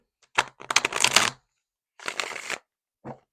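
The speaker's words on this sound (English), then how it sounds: "Now let's shuffle." Tarot cards being riffled and shuffled in quick, crisp bursts, two longer runs followed by a brief final flutter, close up with no talking.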